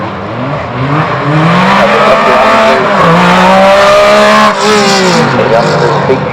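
A Renault 5 rally car revs loudly and close at a rally car show, its engine climbing and dropping in pitch in repeated surges, while someone talks over the noise.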